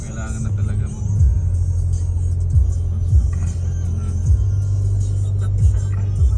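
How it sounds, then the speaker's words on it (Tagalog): Heavy road traffic of cars forms a steady, loud low engine rumble, with vehicles passing close by and rising and falling at intervals, and voices talking over it. "Grabe na traffic."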